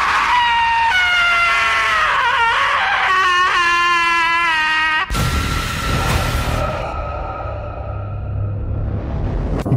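A terrifying drawn-out scream echoes through a fort in an audio drama, with wavering wails giving way to a loud, reverberant shriek and booming dramatic effects.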